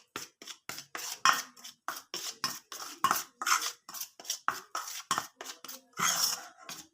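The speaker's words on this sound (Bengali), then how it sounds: "হলুদ গুঁড়ো, এক চিমটে লবণ, সব কিছু মিশিয়ে নিচ্ছি।" Eggplant pieces being mixed with turmeric powder and salt, giving a quick, rhythmic run of close clicks and scrapes, about two or three strokes each second, with short gaps between them.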